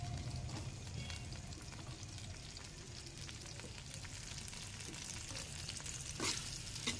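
Chopped onions fry in ghee in a home kitchen pan while making a potato and meat curry, giving a steady, soft sizzle with occasional stirring scrapes and no talk.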